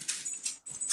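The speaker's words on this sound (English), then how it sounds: "Nathan, that's the dog you hear" A dog at home makes a few short, faint whimpering yelps in quick succession, heard alone with no talking.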